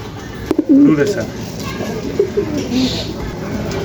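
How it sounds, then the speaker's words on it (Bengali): A pair of Blue Racer pigeons coo softly in a few low murmuring bursts over a steady background hum, with occasional rustling and a faint voice. "ব্লু রেসার এক জোড়া কবুতর, মাশাআল্লাহ অনেক সুন্দর কবুতর"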